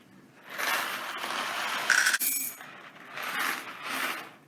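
Dry macaroni pasta rattles into a measuring cup in two bursts of light, clattering pieces, close and fairly loud, with a brief pause between.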